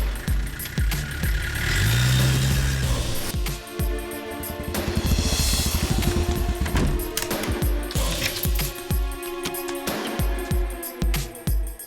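A car is driven off: its engine revs and accelerates over a busy, dramatic soundtrack, loud and close, with thumps and swelling music around it.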